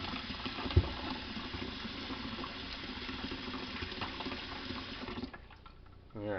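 Cold tap water pours steadily into a pot of boiled eggs, a continuous close splashing rush that cuts off near the end.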